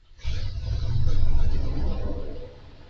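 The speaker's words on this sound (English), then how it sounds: "I really don't like that. The vehicle. It's just so loud." A neighbor's loud vehicle engine rumbles and revs nearby, a deep low throaty roar that swells and then eases off over a few seconds, with no talking over it.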